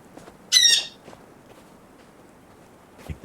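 A bird in the Sons of the Forest video game gives one sharp, loud squawk early on, then faint ambient rustles and a soft thump follow.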